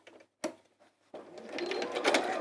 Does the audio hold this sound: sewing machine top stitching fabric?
yes